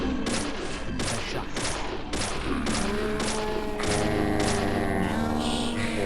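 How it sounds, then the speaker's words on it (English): Gunfire from the video game Deadly Premonition cracks out in a rapid series of about a dozen loud shots, evenly spaced, with thumping game sounds beneath. "How many shots has this been?"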